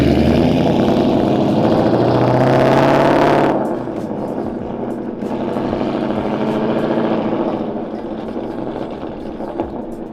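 A loud supercharged, cammed Ford Mustang GT engine revs hard with a rough, lumpy idle, then drops and surges again in a second, softer rev.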